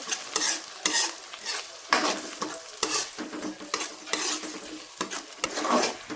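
Tomato and garlic paste fries and sizzles in a pan while being stirred, with repeated scraping strokes and light clinks of a spoon against the pan, close and steady with no talking.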